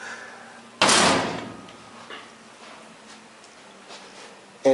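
A door fitted with a metal panel holding magnets and mementos opens with one sharp, loud knock-like impact, followed by a fading rattle and a few faint small clicks as it settles.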